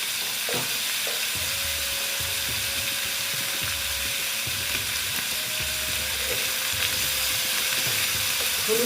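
Vegetables with turmeric fry in hot oil, giving a steady close sizzle with intermittent stirring scrapes throughout.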